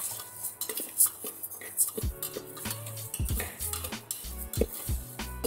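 Urad dal being dry-roasted in a pan for a lunch dish, with a metal spoon scraping and clinking against the pan in irregular strokes, close and fairly loud.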